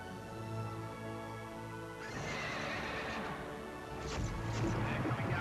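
Horses in a racing scene from the film Seabiscuit, with loud whinnying and neighing plus galloping hoofbeats that swell after the first two seconds, set against a busy, dense mix of orchestral and crowd sound.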